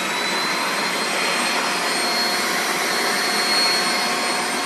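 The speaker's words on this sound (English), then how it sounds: "we're just going to put the lid on that, and then just give me about 30 seconds of that just to kind of grind that all up" A blender grinding aioli ingredients with its lid on, a loud, steady high-pitched whir that runs unbroken throughout, close to the mic and free of talk.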